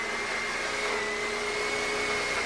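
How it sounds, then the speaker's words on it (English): An electric blender packed with guacamole runs at full speed on a late-night TV show set, giving a steady, continuous motor whine and hum with no voices over it. "next we have a blender full of guacamole"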